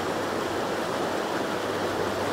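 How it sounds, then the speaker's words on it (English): Waterfalls and a rushing stream around Llyn Dinas, a loud, constant roar of tumbling water, near and unbroken, with no voices. "we've reached some of the waterfalls"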